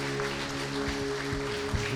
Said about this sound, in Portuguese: Dá uma salva de palmas a Jesus por essa palavra.